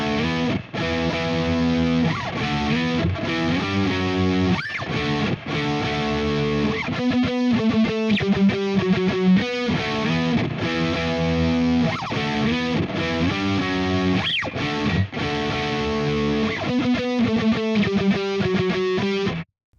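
Electric guitar plays a riff slowly with a distorted, effects-laden tone, arpeggiated notes ringing steadily for the whole stretch with no voice.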